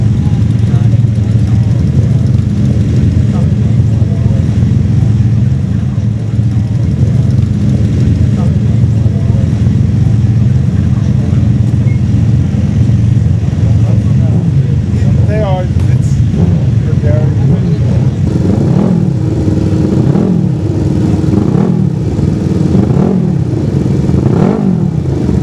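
The travelling marshals' motorcycles run along the Manx Grand Prix road course, a loud continuous engine drone with rising and falling revs as the bikes pass close by, with a voice talking over part of it.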